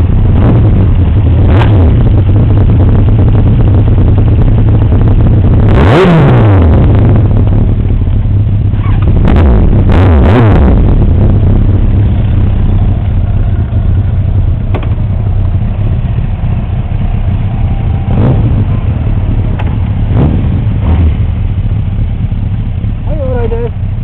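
A customized Suzuki GSX-R 1200 motorcycle engine runs loud and close with a steady idle, broken by several sharp throttle blips and revs that rise and fall, with people talking nearby.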